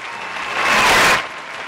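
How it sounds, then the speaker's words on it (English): Audience applause with some cheering swells up loud and sustained for about half a second, then fades back to a lighter patter. "Everyone get off your ass and cheer."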